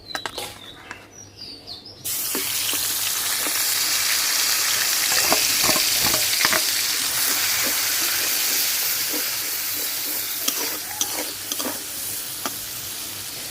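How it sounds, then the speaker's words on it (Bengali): Ground spice paste sizzles loudly in hot oil left over from frying katla fish, a steady dense hiss that jumps up suddenly and holds, with scattered sharp pops and spatters throughout. "মাছ ভাজার তেলেই আমি ফোড়ন দিয়ে দেবো।"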